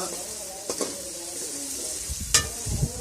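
Chopped onions for aloo gobi sizzle in a hot pan, with a few stirring knocks and a sharp clatter near the end, close and fairly loud.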